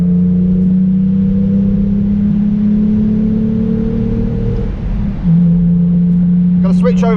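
A car engine drones steadily and loudly while climbing a winding mountain road, holding a constant pitch before a brief dip and a shift to a new steady note; a voice speaks near the end.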